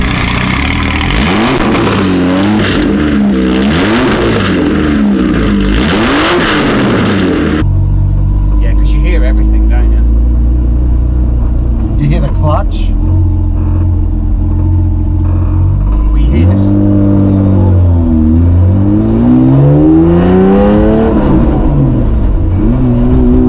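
An outlaw-style Porsche 911 engine rumbles into a cold start, then settles into a deep, steady idle before several rising revs swell loudly near the microphone. Voices talk over the first stretch.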